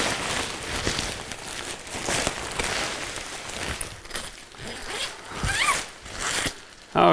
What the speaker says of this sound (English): you can zip them multiple together and get as much length as you want